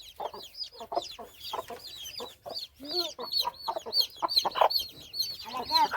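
Several chickens cluck and squawk close by in quick, irregular bursts, their calls overlapping throughout.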